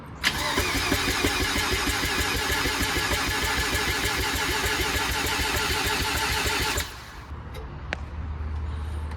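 A street-ported rotary-engine Mazda RX-7 cranks and fires into a loud, steady buzzing roar for several seconds, then cuts off abruptly, leaving a low hum and faint clicks.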